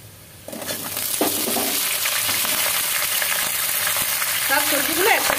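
Vegetables drop into a pan of browned onions, setting off a loud, continuous sizzle as a spatula scrapes and stirs them, close up, with no one speaking.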